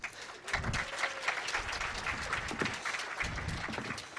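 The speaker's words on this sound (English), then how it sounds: "Everyone applaud for Laz." A small hacker conference audience applauds a security expert coming up to speak, scattered close claps over a broad room noise with some low thuds and shuffling, no talk heard.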